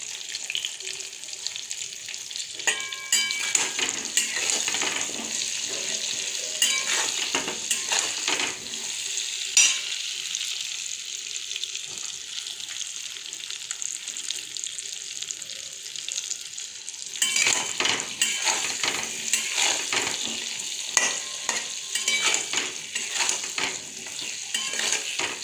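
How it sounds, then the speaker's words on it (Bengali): Vegetables with turmeric and salt fry in a pan, giving a steady, close sizzle with repeated stirring scrapes and brief watery splashes, no talking. "দেখুন এটা ভাজা হোক।"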